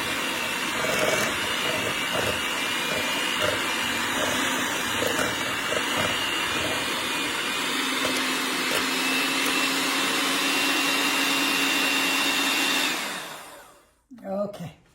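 Electric mixer creaming cream cheese until smooth for an apple caramel dip, a loud steady whir running for about thirteen seconds before cutting off, followed by a brief clatter.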